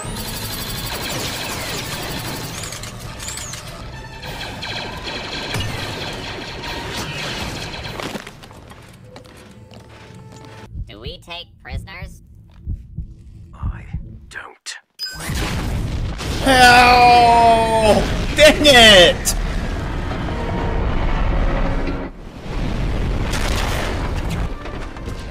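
Explosions from a manually detonated charge in a Clone Wars animated episode: heavy booming blasts and rumbling debris come in two loud stretches, separated by a quieter gap with scattered pops and some voices.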